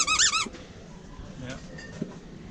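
Squeaky dinosaur-shaped dog toy gives one bright, wavering squeak at the very start, followed by a noisy exhibition-hall background with faint murmur.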